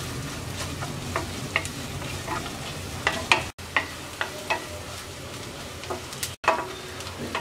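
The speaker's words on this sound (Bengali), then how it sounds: "পেঁয়াজ রসুনটাকে হালকা ভেজে নেব।" Onion and garlic fry lightly in a pan for a tomato chutney, a soft continuous sizzle broken by occasional sharp clicks and scrapes of stirring, close and quiet.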